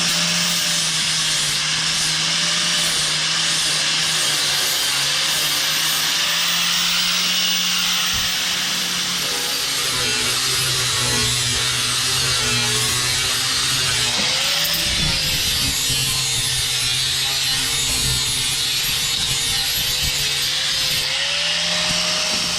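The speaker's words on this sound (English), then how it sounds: "let's do some grinding" A power grinder works a 1967 Chevelle rear carriage panel, running continuously with a loud, harsh metallic whine whose pitch wavers as the load shifts against the metal.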